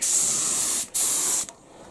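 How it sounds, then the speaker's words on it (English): Spray paint hissed onto a trike frame: two loud, bright aerosol bursts, the first lasting close to a second, then a short break, then a second half-second burst, followed by quiet. "spray the underside completely"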